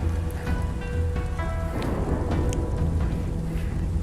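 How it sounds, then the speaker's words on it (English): Heavy tropical rain pours steadily and loudly after two days of downpour, a dense close hiss of drops drumming on surfaces, with a soft rumble underneath and no talk. "Straight rain for 2 days."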